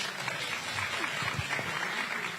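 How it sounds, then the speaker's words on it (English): An audience at a devolution conference gives a round of applause, quiet and somewhat distant clapping forming a soft steady wash, with faint voices underneath. "Let's please give a round of applause"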